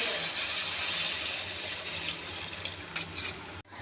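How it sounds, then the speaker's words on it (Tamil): Tamarind water poured into a pan of fish curry, a steady close liquid pour that runs for a few seconds and then stops abruptly. "இப்போ புளி கரைசலை ஊற்றிடலாம்."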